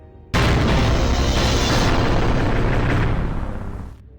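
A loud, sustained explosion in the video game KOTOR 2 bursts in abruptly and rumbles on for about three and a half seconds, a broad roaring blast that slowly fades at the end, with no voices over it.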